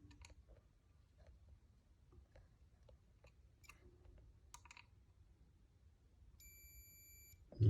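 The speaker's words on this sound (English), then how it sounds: "There you go, it's beeping." A multimeter's steady, clear electronic continuity beep sounds near the end after a stretch of faint clicks and handling noises, fairly quiet overall.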